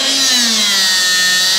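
A portable rebar cutting machine bites through a steel rod, giving a loud, steady high-pitched grinding whine with a low tone that slides downward as it cuts, heard up close with no talking.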